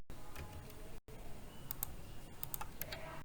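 Keystrokes on a computer keyboard during spreadsheet work: scattered light clicks and taps, close and moderately loud, with a brief gap near the start and no talking.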